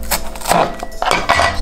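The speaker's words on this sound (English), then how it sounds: "We're going to use a couple stalks of lemongrass. Cut the ends off." A knife chops through lemongrass stalks on a cutting board, trimming off the ends, giving several sharp, close knocks and cuts in an irregular rhythm with no talking.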